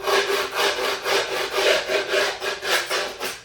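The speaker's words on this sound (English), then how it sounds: "you can see right when I'm rubbing it on here now" A rat tail file scrapes the grip tape off the edge of a new skateboard deck in steady back-and-forth strokes, about two per second, each a close, rough, gritty rasp with no talk.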